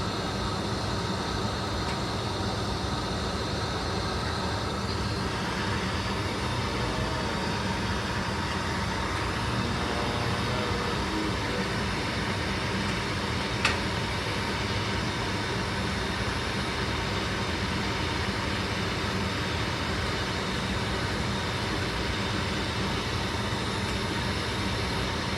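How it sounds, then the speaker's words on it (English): A heat gun blasts hot air onto a clay coil pot, a steady loud roaring whoosh that runs unbroken throughout with one brief tick partway through. "I'm just gonna blast it with heat and blow it all out"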